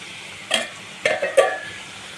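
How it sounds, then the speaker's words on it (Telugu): Onions with turmeric frying in a pan during village cooking, brief stirring scrapes and sizzles in three or four short bursts over a quiet background. "ఉల్లిగడ్డ మంచిగా వేగిపోయింది కాబట్టి మనం పసుపు వేసుకున్నాను"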